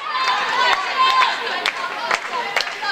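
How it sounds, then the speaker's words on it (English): Spectators at a women's college game between Bellevue and Mayville State clap and chant in a gym, rhythmic sharp claps punctuating a continuous crowd din with voices mixed in. "Bruin fans clapping and chanting"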